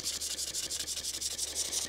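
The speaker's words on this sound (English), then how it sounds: "Give this a little scrub and a wipe" Dense, steady rubbing of a golf towel scrubbing dirt from the grooves of a golf wedge, a close, continuous friction hiss with quick back-and-forth strokes and no talk.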